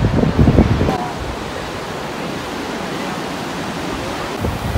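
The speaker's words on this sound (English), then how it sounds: "Waves are very unpredictable." Steady, broadband roar of ocean surf at Sanya Bay, China, with a brief burst of voices at the start before the waves carry on alone.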